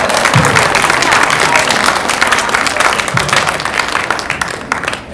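An audience at a film Q&A breaks into loud, close applause with some cheering, dense hand claps running throughout, and a few voices mixed into the crowd noise.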